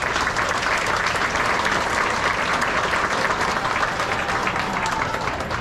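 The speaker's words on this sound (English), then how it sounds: "I think that deserves a round of applause" A school audience gives a steady round of applause for Sierra Vista students at an awards celebration, dense clapping sustained at even loudness throughout.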